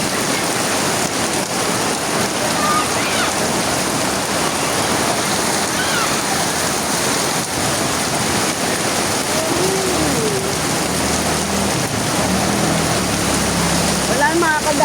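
Heavy rain pours steadily throughout, a dense continuous hiss with a few faint passing sounds underneath and no pause in the downpour.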